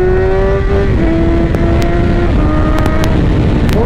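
A 2018 BMW S1000XR motorcycle engine roars loud and close, holding a steady high note with a short dip before climbing again as it pulls hard on asphalt.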